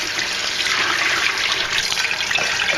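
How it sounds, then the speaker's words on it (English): Water from a kitchen tap runs steadily into a coffee pot at the sink, a close, continuous broadband splashing rush with no pauses throughout. "So here I come over the coffee over to the sink."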